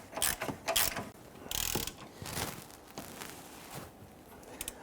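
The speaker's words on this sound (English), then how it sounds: "Let's go ahead and tighten these down." Ratchet tightening front lower control arm bolts on a 2007-2014 Cadillac Escalade, with several quick bursts of clicking and some clanks of tool handling, close up and without talk.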